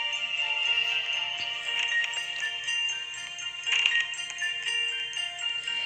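A cell phone ringtone plays in a video game at a workplace setting, a steady bright electronic melody running throughout with a few louder chimes.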